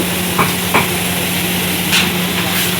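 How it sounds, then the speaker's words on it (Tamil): Onions sauté loudly with white and black pepper and chilli powder for kothu parotta, a close, dense sizzle with a few metallic taps and scrapes of stirring on the hot pan. "நல்லா வதக்குறாரு. நல்லா வதக்கிட்டு இருக்காரு."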